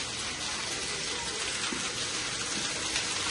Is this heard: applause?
no